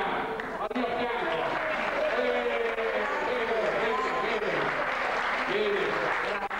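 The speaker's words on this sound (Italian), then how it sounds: "Allora facciamo subito un applauso" An audience at a grand variety show claps in steady, dense applause that fills the whole stretch without pause, heard from within the hall, with some voices murmuring underneath.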